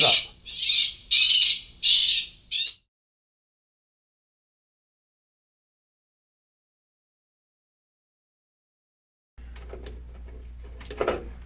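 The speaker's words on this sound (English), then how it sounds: "The sound card contains all the bird sounds." A Bird-X Mega Blaster PRO sonic bird repeller plays recorded bird and raptor calls: four loud squawking bursts in quick succession, then silence, then fainter calls returning over a low hum near the end.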